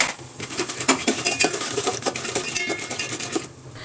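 Peanuts and mixed nuts tossed into a pan over a low flame, clattering and rattling against the metal in quick irregular bursts of small clinks before settling into quieter scraping near the end.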